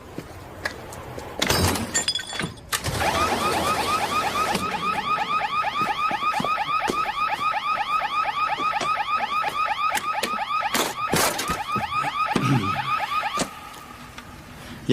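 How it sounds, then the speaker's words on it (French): A loud electronic alarm shrieks in fast repeating warbling cycles for about ten seconds, preceded by crashing impacts and breaking glass, with more thuds over it before it cuts off. "Y a pas de ligne téléphonique, c'est juste une alarme."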